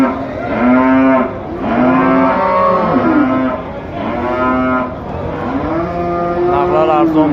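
Cows at an Uzbek cattle market moo loudly and repeatedly, several long close calls in a rough rhythm with short gaps, only faint market noise underneath.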